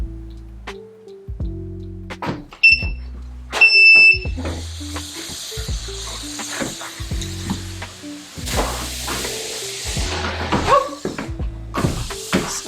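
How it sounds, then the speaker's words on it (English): A walking pad treadmill sounds a series of short electronic beeps as its speed is changed by remote, the beeps spaced irregularly over a low running hum with thumps and clatter around them. "that little beep noise you hear is me adjusting the speed with the remote"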